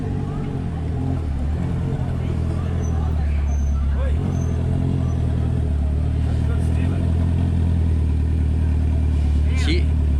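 A Honda motorcycle hums along with a steady low engine drone near a beach in Itacaré, Bahia, Brazil, constant throughout, while a voice talks over it.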